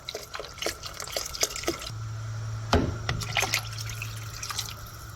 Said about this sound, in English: I'm going to add my broth.